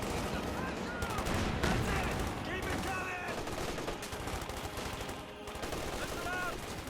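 Dense gunfire from a Company of Heroes 2 match, with rapid overlapping rifle and machine-gun bursts rattling continuously at high volume across the whole stretch, mixed with battle din and occasional tonal game sounds.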